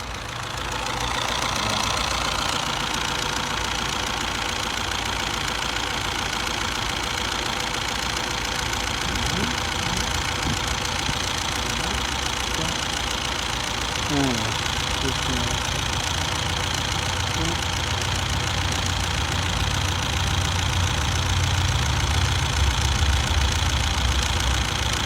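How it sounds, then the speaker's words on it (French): A car engine idles steadily right after starting, a constant close low hum with faint rhythmic knocking, running alone without talk for the whole stretch. "Hop, on va démarrer la voiture."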